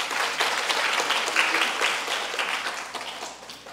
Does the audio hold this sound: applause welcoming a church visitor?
yes